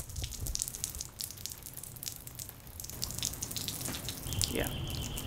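Shower water runs and splashes in a steady wash of spray with scattered drips, close by and fairly loud, while voices talk faintly underneath.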